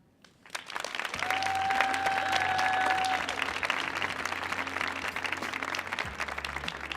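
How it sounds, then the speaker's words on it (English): A theater audience at a youth poetry performance on the Millennium Stage claps steadily for a young poet, a full, dense round of applause building quickly and holding loud, with a low hum and a sustained tone underneath. "Keep clapping for Quentin Andrews."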